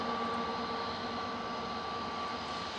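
Aircraft engine roar at Manchester Airport, a steady broadband rumble with a sustained tonal whine, loud and unbroken throughout with no talk.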